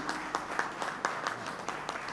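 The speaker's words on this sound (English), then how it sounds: "Let's just give a big clap for our panelists." A conference audience gives brief, fairly quiet applause for the panelists at a discussion on an African COP climate summit, with scattered claps over about two seconds.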